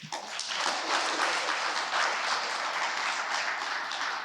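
An audience applauds at a Detroit press event on Black wealth and home ownership, a steady wash of clapping that holds evenly for several seconds at moderate volume with no voice over it.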